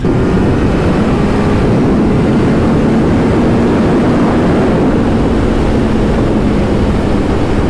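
Loud, constant roaring wind buffeting a helmet at about 175 km/h, a dense rushing blast with no pauses or clear voices.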